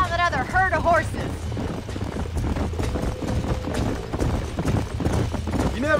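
Horses in the Red Dead Redemption video game trot with rhythmic clip-clop hoofbeats, a brief whinny early on, while voices talk over the steady gait.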